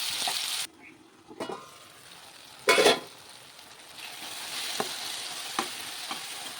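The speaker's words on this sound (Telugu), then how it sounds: "టమాటా కూడా బాగా ఫ్రై అయిపోయింది" Tomato and onion fry in a pan with a steady sizzle, broken by a few stirring scrapes and louder bursts of spitting oil, close by and without talk.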